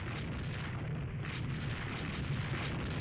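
Naval gunfire and shell explosions in the warship strategy game Rule the Waves 2, a dense continuous rumble of booms with low-end weight, steady and loud throughout with no speech.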